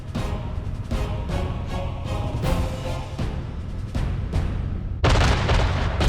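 A dense barrage from 3000 guns and Katyusha rocket launchers at Stalingrad: continuous heavy rumbling with overlapping booms and blasts, swelling louder near the end.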